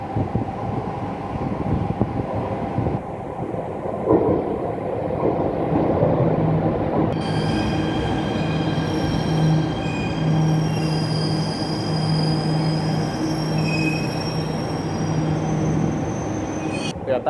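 A Jakarta MRT train pulls into an elevated station platform, loud and close, with a rumbling roll and a steady high wheel squeal for much of its length, and a station announcement comes in partway through.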